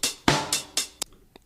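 An original percussion sample from the intro of a song: a loose run of four bright, noisy drum hits with ringing tails, followed by two short sharp ticks. It is close, dry and alone, with no voices.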